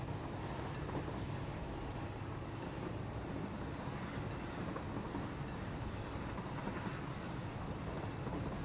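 A train running in the factory game Satisfactory gives a continuous, even broadband rumble and rattle that holds steady for the whole stretch without talk.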